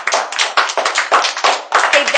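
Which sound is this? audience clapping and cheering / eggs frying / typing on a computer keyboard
audience clapping and cheering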